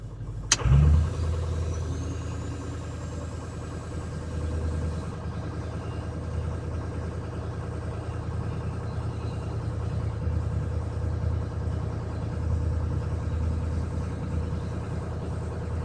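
A 2006 Ford 6.0 Powerstroke diesel truck engine holding a steady high idle, a continuous droning rumble after a brief sharp click at the start.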